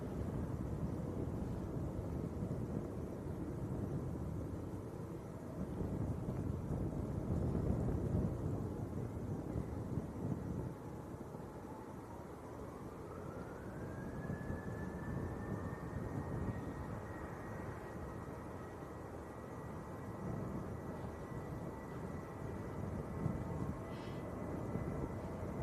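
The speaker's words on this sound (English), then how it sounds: "This is Tui to Lanzarote, 737-800." Tui Boeing 737-800 departing Manchester Airport for Lanzarote, a distant rumbling jet roar building into a rising engine whine that climbs and then holds, faint and steady under wind noise.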